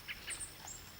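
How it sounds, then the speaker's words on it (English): Birds chirp in short, faint high-pitched bursts, a few quick calls scattered across a quiet moment with no talking. "So you may have just heard birds chirping."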